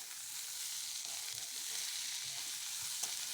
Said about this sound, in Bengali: মিটুলি আর আলু দিয়ে আরও কিছুক্ষণ ভেজে নেব